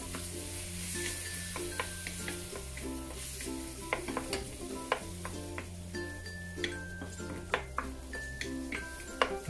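Marinated beef sizzles and fries in a pan for beef broccoli with carrots, while a spatula stirs and clicks against the metal in irregular taps, close and moderately quiet, with a faint background hum.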